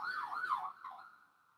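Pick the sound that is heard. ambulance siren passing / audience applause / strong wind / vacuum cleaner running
ambulance siren passing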